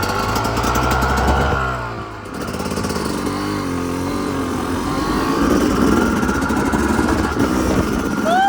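A dirt bike engine ridden around town, a loud close buzzing drone that dips briefly as the rider lets off, then climbs and holds through revving pulls.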